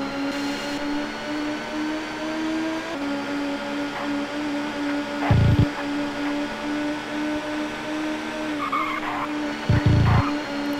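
A front-wheel drive touring car in the TOCA Touring Car Championship game at Silverstone drones on a steady engine note, with two short, loud tire squeals as the car slides under throttle.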